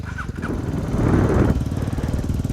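An Orcal SK01 125cc motorcycle engine runs steadily up close, a low buzzing drone that swells slightly in the middle before settling back to an even hum.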